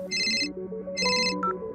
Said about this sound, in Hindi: जब उसे उसके अतीत से जुड़ा एक फोन आया